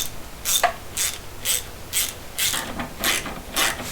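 A ratchet tightens bolts on a BMW 335i engine, giving about seven quick bursts of close, crisp clicking in a steady rhythm, with no voices.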